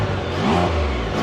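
A 2025 BRP Can-Am Spyder RT engine starts, runs and revs up, a steady mechanical roar that rises in pitch, loud and close.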